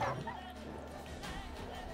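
Dogs in The Witcher 3 fight scene barking and yelping, a sharp burst at the start then scattered quieter yips under game noise and a voice talking over it.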